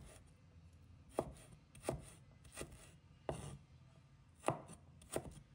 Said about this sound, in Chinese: 一块生姜，把它切成小粒